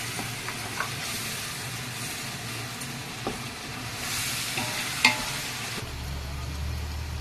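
A frying masala of coconut, tomato, cashews, poppy seeds, coriander seeds and garam masala for chicken biryani sizzles and hisses in a pan, with occasional scrapes and taps of stirring.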